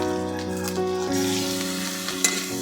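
Ginger-garlic paste hits browned onions and a bay leaf in a pan of oil for a hilsa fish dish, a loud continuous sizzle with a few scraping stirs and a steady tonal hum underneath.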